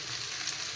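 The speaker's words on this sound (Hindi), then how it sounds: "आब सबटा दऽ के कनी फ्राई कर दै छियै।" Potatoes, cauliflower and pumpkin frying together in hot oil, giving a steady, close, even sizzle with no voices.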